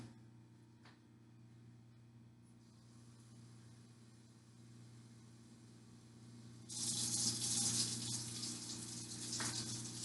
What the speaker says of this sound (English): And you're going to add in 2 cups of water.